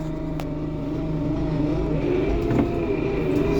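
A Lovol P4110 tractor with the front axle engaged pulls away in reverse in sixth gear, its diesel engine rumbling steadily with a faint rise, a couple of small clicks audible over the drone.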